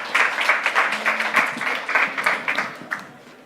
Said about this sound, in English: Please give a very big applause for Plugable.